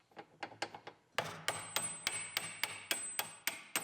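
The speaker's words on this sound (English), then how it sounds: "We'll use some of our old parts as a hammer." Sharp metallic hammer strikes using an old car part as a hammer on a bolt of a Pontiac Grand Am GT, a quick cluster of lighter taps then a steady series of heavier, ringing blows at an even rhythm, close by.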